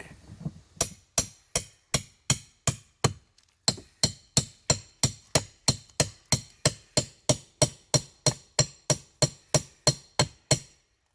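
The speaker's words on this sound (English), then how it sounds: "Hammer that side in and then yank it." Steady hammer blows strike a nail again and again in a quick, even rhythm, each hit sharp and close, with a brief pause early on before the pounding resumes.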